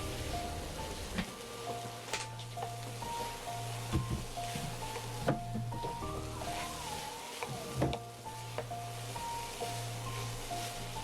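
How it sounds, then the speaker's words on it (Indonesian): Rice being stirred and broken up in a hot pan for egg fried rice, a steady crackling sizzle with scattered scraping clicks from the spatula, close and continuous without talk. "kita masukkan nasinya, lalu kita hancurkan seperti ini. Dan jangan lupa untuk diaduk"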